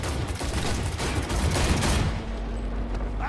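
Sustained gunfire from a car chase in the video game Cyberpunk 2077, a dense continuous volley of rapid shots with engine rumble beneath, easing off toward the end.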